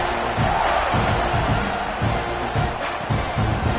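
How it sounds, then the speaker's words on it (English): A football stadium crowd roars and cheers continuously with whoops rising and falling as the kickoff unit takes the field, a loud, dense wash of voices. "this crowd is feeling themselves after that last drive"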